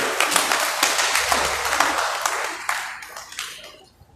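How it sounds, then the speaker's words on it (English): Crowd at a political campaign rally in Ondo State applauds a party chairman, with brisk, dense clapping that stays loud for a few seconds and then thins out and fades, with no voices. "Please give him a round of applause."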